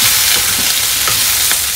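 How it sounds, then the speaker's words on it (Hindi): Garlic ginger paste fries in a pan with juices for jackfruit biryani, giving a steady, close sizzle with faint stirring scrapes and no talk. "इसमें डालेंगे हम लहसुन अदरक का पेस्ट रस के साथ फ्राई करेंगे।"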